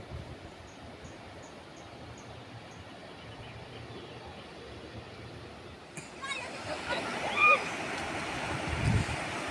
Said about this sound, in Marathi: पाणी एकदम जोराने वाहत आहे